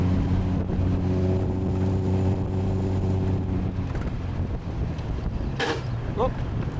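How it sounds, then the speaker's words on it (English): An Austin Healey 100/6 exhaust drones steadily while driving, a low, torquey engine note heavy with wind rush, sustained and loud close by, with a brief higher whine near the end. "There's that wonderful exhaust note."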